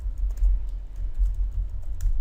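Computer keyboard typing at a steady, quick pace, close and fairly loud, a run of soft key clicks with no voices, entered while coding a PHP and MySQL e-commerce site.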